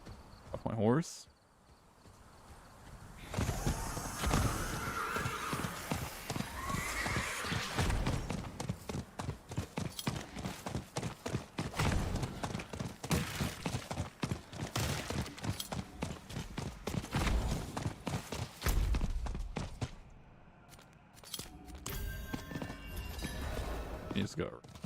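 Rapid hoofbeats of a horse in the video game Diablo 4 clatter in a quick galloping rhythm with a brief whinny, heavy and close, while a person talks over parts of it.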